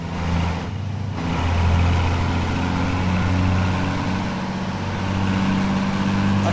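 Deep, steady Scania truck engine drone from the Euro Truck Simulator 2 game, heard up close and alone, a low rumble that swells slightly and holds, with a brief hiss near the start like an air release.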